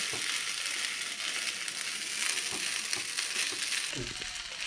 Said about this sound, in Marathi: छान हा तुपावरती आपण परतून घेऊयात साधारण दोन मिनटं तरी